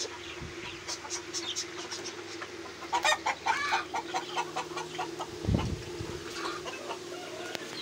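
Farmyard chickens cluck and squawk in a series of short, moderately close calls over a low background hum, with a brief louder thump partway through.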